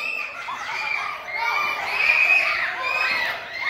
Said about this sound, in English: Who knew fifth grade boys could scream like that